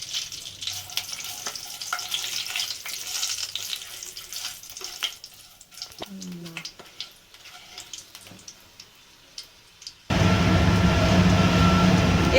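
Whole cumin, sugar and whole garam masala fry in hot oil with a steady close sizzle and crackle, broken by scattered clicks; a louder, denser hiss takes over abruptly in the last couple of seconds.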